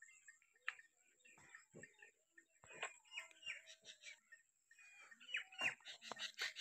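Hens forage in the morning, giving soft scattered clucks and chirps at a moderate distance, with quiet rustling and a faint steady background tone.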